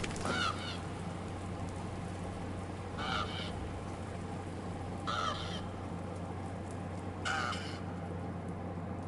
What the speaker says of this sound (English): There's the crow.